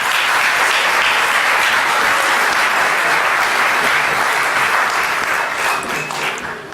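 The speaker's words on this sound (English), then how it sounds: "thank you very much for giving me a couple minutes" Audience at a town caucus applauds steadily and loudly, a dense wash of clapping that holds for several seconds before tapering slightly at the end.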